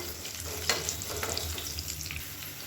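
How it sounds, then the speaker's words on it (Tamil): Chopped garlic fries and starts to brown in oil for a biryani, a short, close, steady sizzle with light stirring scrapes and small crackles. "இப்போ பூண்டு வந்து லைட்டாக செவக்க ஆரம்பிக்குது"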